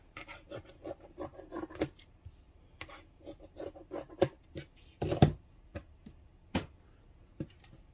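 Scissors snip and rasp through fabric while a gnome is being sewn, a string of irregular close cuts and scraping clicks with several sharper snaps.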